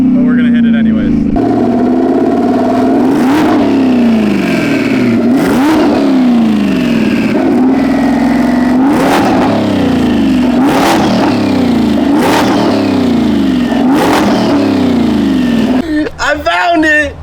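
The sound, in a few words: boosted V8 car accelerating hard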